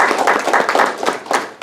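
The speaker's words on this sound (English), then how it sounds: "so let's give him a round of applause too" An audience at a climate change panel event claps loudly and close, with dense, rapid overlapping hand claps forming brief applause that tapers off at the end.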